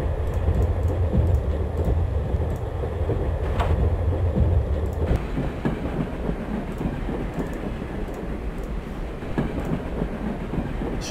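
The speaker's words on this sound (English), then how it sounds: "The train doesn't stop at the National Observatory." A train runs in the video game Gadget: Past as Future. Its deep, steady rumble carries a faint rhythmic clatter of wheels, and the roar shifts midway to a lighter rolling sound, with no talking.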